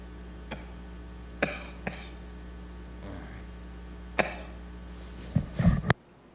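A few scattered coughs and throat clearings echo in a quiet temple hall during a sutra teaching, short isolated bursts spaced apart, ending in a louder cluster before falling silent.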